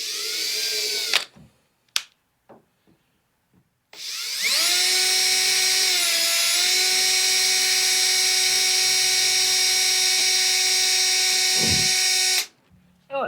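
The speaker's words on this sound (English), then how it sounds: "I'm starting with a pilot hole, smallest bit I have." A power drill with the smallest bit bores a pilot hole in an aluminum hood vent for a Datsun 280Z, giving a brief spin-up and then a long, steady, high whine lasting several seconds before it stops abruptly.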